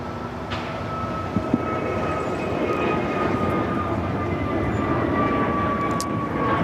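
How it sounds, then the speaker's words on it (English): Emirates airliner taxiing at LAX airport, heard as a steady, loud broadband jet engine rumble with a sustained tonal whine, continuous throughout without speech. "The Emirates should be starting its taxi up to the north side here shortly."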